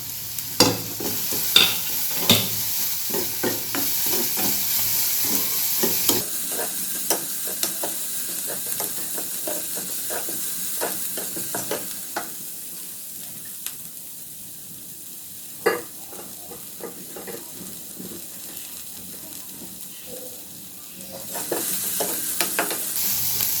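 Chopped garlic and vegetables for veg momo filling sauté in a hot pan, a continuous soft sizzle broken by repeated scraping and knocking of a spoon stirring, with a quieter stretch midway.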